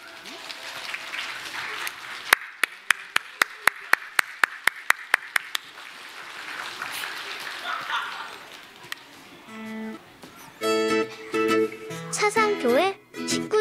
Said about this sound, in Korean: 우리가 하나님께 감사하는 마음으로 박수하겠습니다